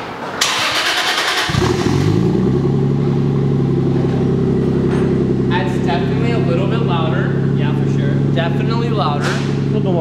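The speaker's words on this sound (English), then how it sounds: "Moment of truth, we're gonna do a cold start. We'll do a couple revs" A car's engine cranks and fires on a cold start through a new, louder exhaust, then settles into a loud, steady idle with a deep growl, close by; people talk over the running engine.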